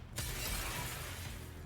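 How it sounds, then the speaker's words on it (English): Glass shatters in a video game, a sudden sharp burst followed by a sustained noisy crash and trailing debris that fills the moment. "The familiar and terrifying sound of glass breaking fills the air."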